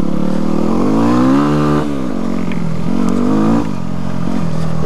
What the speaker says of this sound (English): I'm really having fun getting on the throttle on some of these corners and drifting the bike's back end out